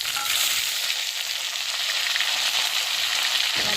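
Ginger paste, cumin paste, green chili and tomato sizzle in hot oil in a pan, a steady, close hiss of frying with light stirring throughout, no voices.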